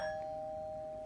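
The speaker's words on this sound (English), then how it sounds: "That was our doorbell." A household doorbell rings indoors as one steady sustained chime tone, moderately faint and heard alone without any talking.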